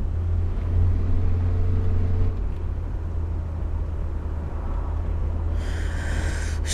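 A bus engine rumbles low and loud as it accelerates, swelling briefly in a deeper rev before settling into a steady drone.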